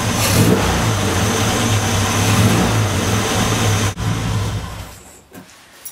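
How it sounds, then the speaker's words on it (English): Classic Mini engine ticking over at idle with fresh spark plugs, a steady close, loud low mechanical hum that dips briefly near the end, with no talking. "that's just on tick over"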